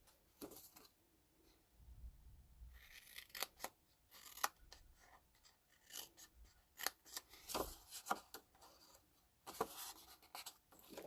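Small scissors or snips snip through cardstock for a handmade Stampin' Up card box, making a quick series of close, crisp cuts and paper rustles at a quiet level, with no talk.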